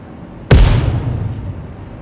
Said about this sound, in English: I'm going to put a nade out to make sure it's safe.